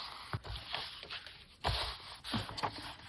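Sheets of paper being creased and folded into a junk journal pocket, giving several soft scraping swipes and crinkles up close, with a stronger press near the middle, no talking.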